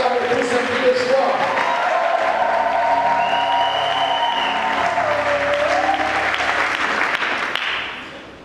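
A church congregation applauds and cheers in a sustained, dense wave of clapping, fairly loud and close, with voices and a held sung or shouted tone over it before it fades at the end.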